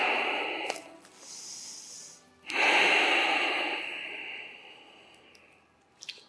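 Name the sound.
heavy breathing after a stretching exercise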